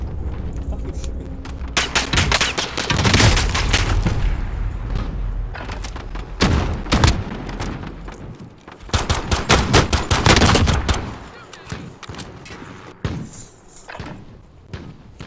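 Bursts of automatic and single-shot gunfire from Call of Duty Warzone, loud and close, coming in several volleys with gaps between them, with no voices over it.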